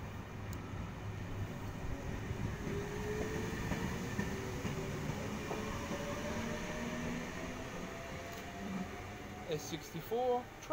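An eight-car Sydney electric train, two four-car sets coupled, passes through Turrella station in the afternoon peak, a faint steady rumble and hum with a rising motor whine, ending in a few sharp squeals.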